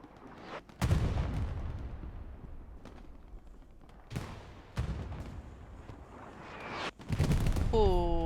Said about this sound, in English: that might have been friendly artillery coming down on Tom then